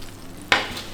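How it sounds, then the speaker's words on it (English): Lamb köfte in a pan: a sudden sizzling hiss bursts up midway, loud and close, and then slowly fades into a steady frying crackle, with no voices. "it's been 10 minutes now and the lamb is sizzling"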